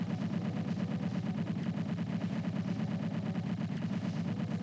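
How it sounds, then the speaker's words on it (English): Rapid, continuous chain gun fire in a Doom-style shooter map, a dense, evenly spaced stream of loud mechanical shots hammering without pause, with no talk over it. "gotta spam that chain gun"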